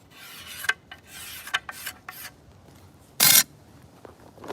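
A rasp scraping maple wood while tillering a selfbow, giving several separate short rough strokes of varying length, one louder harsh burst near the end, close and alone with quiet gaps between.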